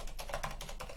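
Quick, steady keystrokes on a computer keyboard as a command is typed in a Linux terminal, a run of close, crisp taps with no voices.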